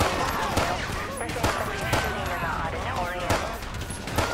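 Dense gunfire in GTA5 with the LSPDFR police mod, a steady barrage of shots and impacts with no pause, loud throughout, with people talking over it.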